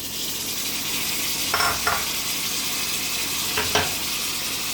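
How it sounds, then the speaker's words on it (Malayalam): Onion and tomato masala for egg biryani sautéing in a pan, a steady broad sizzle with two short bursts of spatula scraping and stirring, close and moderately loud with no talking. "അത് നന്നായിട്ട് അതിൻ്റെ പച്ചമണം മാറുന്ന വരെ നന്നായിട്ട് വഴറ്റി കൊടുക്കാം"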